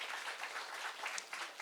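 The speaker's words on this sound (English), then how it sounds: "can we please have a round of applause" Audience applause at a book talk celebrating an author, a steady wash of many hands clapping throughout, moderately faint and without speech.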